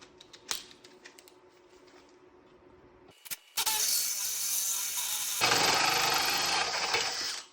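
A few scattered clicks and taps, then a power drill whirs loudly and steadily, its pitch rising slightly as it bores through material.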